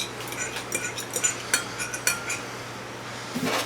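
A steak marinade of four ingredients in equal amounts is stirred in a bowl, giving a string of faint, close utensil clinks and taps against the dish, with no talking.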